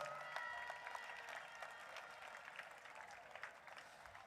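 A crowd of supporters at an inter-primary school athletics championship gives a sustained round of applause, faint and distant, with dense overlapping claps that slowly taper off.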